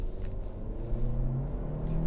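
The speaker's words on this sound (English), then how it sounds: "Let's start off by putting this vehicle in sport mode and see what kind of pickup we have." A 2022 Honda Civic Hatchback Sport Touring with a 1.5 liter turbocharged engine accelerates in sport mode, a steady rising engine drone under road rumble heard from inside the car.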